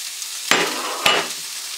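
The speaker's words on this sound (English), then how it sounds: "we're going to let that fry until it gets just transparent, not brown" Chopped onions fry in a pot, a steady close sizzle broken by two scraping stirs of a spoon, with no talking over it.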